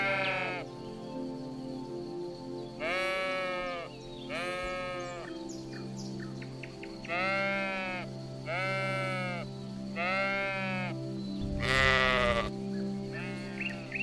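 Sheep bleat in a series of wavering, nasal calls, about seven distinct bleats spaced a second or two apart, fairly faint over a quiet background.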